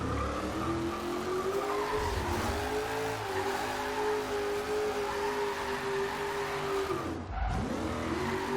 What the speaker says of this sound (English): See if we can drift this roundabout here.